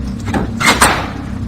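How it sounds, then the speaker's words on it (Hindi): A heavy iron door latch clanks open in a horror story scene. It gives two sharp metallic knocks close together over a low, steady background hum. "फिर अचानक दरवाजे की भारी लोहे की कुंडी खोली।"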